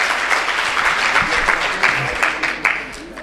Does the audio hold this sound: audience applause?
yes